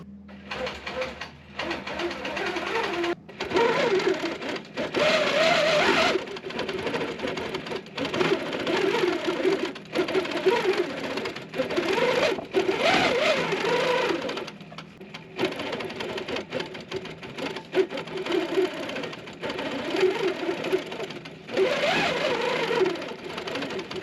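Sewing machine free-motion quilting swirls across a checkers quilt topper, a steady buzzing stitch run that starts and stops in long bursts, with brief pauses between runs.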